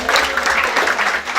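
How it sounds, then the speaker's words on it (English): Brief, dense round of applause from an audience at Dolans music venue in Limerick during a limerick contest final, steady clapping throughout. "give yourselves a round of applause"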